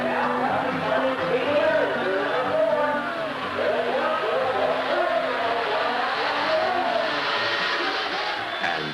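Snowjet snowmobiles racing in a ladies' modified competition at a small local race in Alexandria, Minnesota, engines whining and rising and falling together in a steady, loud drone as the machines pass, with a faint crowd behind.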